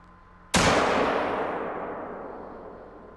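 A single loud rifle shot fired at an animal in the hunting game theHunter: Call of the Wild, a sharp crack followed by a long, slowly fading rumbling echo, with no talking.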